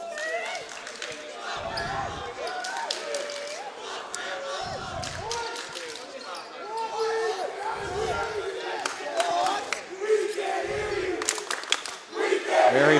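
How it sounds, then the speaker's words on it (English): Wayne Hills crowd at a high school basketball state semifinal, a loud sustained mass of voices chanting and yelling, with basketball bounces thudding every few seconds underneath. "Very passionate Hills crowd."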